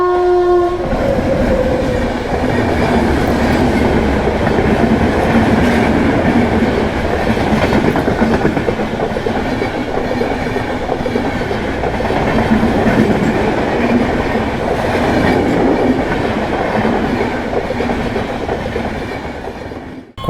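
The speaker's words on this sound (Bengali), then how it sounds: "কতগুলো ট্রেন পাস করলো, তারপরে গেট তুললো।" Trains roll past a railway level crossing with a continuous heavy rumble and rhythmic clickety-clack, loud and close throughout. A horn sounds near the start, and no voices are heard.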